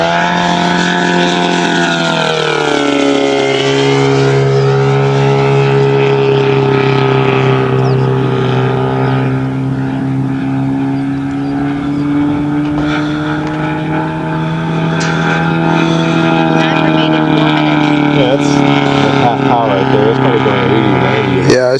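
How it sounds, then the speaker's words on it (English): A giant-scale F8F Bearcat model airplane engine screams at high pitch, steady and loud for a long stretch, its tone dipping and rising as it flies past. "it's been a while since I've seen this plane fly, but man, it just"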